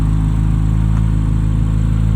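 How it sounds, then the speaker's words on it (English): A 2023 Chevrolet Corvette Z06 with stock exhaust idles loud and close with a deep, steady burbling rumble, revving slightly without pause for about two seconds. "That's stock exhaust. That's insane."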